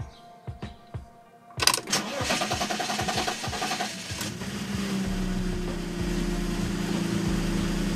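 A BMW E46 330i with a faulty idle air control valve cranks several times on a cold start, then catches and settles into a loud, steady but rough idle.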